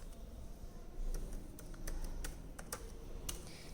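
A password goes in on an HP computer keyboard as quick, close key clicks in an uneven rhythm over a low background hum, without talking.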